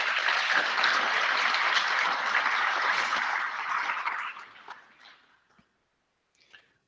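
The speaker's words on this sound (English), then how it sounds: "Please give a hearty round of applause to show our appreciation for these candidates." Audience members at a homeowners' association board candidates forum applaud together in a full, sustained wave for about four seconds, then the clapping thins out to a few scattered claps and falls silent.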